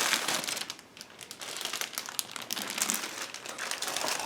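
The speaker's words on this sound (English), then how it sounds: "This is a sealable plastic bag, which is quite nice" Plastic crinkles and rustles steadily and fairly close as a sealable plastic bag holding plastic sprues from an ICM 1/48 Ju 88A-4 model kit is opened and handled.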